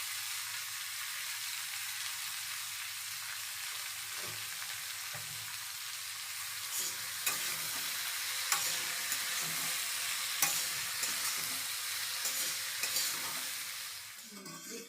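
Vegetables and turmeric stirred in a hot pan for a Bengali mixed-vegetable curry, giving a steady broad sizzle with soft scraping stirs and a few sharp clinks of the spoon, close and continuous with no talking.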